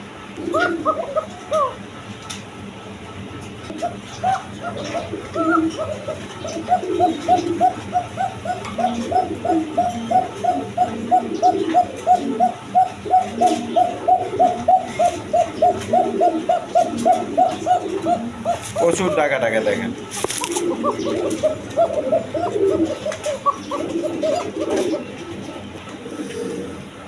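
An oriental female pigeon coos close by in a long run of rapid, evenly spaced throaty pulses, with occasional voices talking over it.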